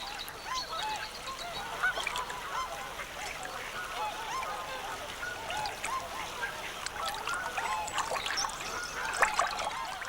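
Geese honk continuously outdoors while being fed near a netted catch area, a dense overlapping flock chorus at a steady level with faint trickling water and occasional faint voices.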